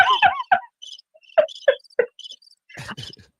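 A cricket chirping sound effect, heard alone as short, distinct chirps in uneven bursts with quiet gaps between them.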